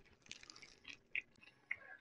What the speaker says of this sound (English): Stop munching